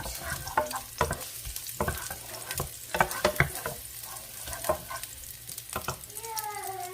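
Garlic, four cloves, sautéing in a hot pan while a spatula scrapes and taps in a busy irregular rhythm over a constant sizzle, close and clear; a faint whistling tone rises near the end, no talk.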